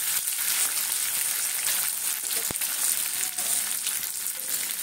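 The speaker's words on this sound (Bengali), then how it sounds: "কলা আর আলুটাকে ভেজে নেব" Plantain and potato pieces frying in hot oil make a continuous dense sizzle with occasional stirring and one sharp tap midway. The sound is close and steady, and no one speaks over it.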